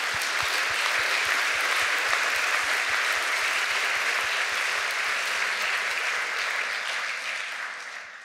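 A hall full of listeners at a positive psychology talk claps steadily for several seconds, broad and sustained, with a regular low thumping beneath it. The clapping thins and fades toward the end.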